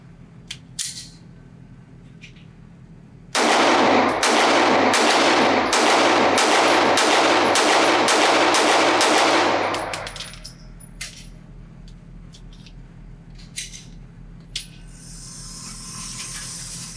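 A Staccato CS subcompact 2011 pistol fires hollow point rounds outdoors, a fast string of about ten loud, evenly spaced shots, followed by quieter handling clicks.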